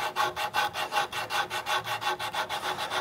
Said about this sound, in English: we're just taking out those rasp marks, sanding down to a flatter, smoother surface